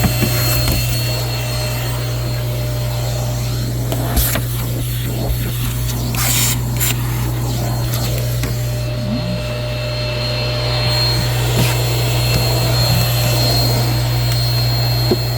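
A Sweep O vac central vacuum system runs steadily and loudly throughout, its constant roar broken by a few brief knocks and scraping sounds of the hose or wand working nearby.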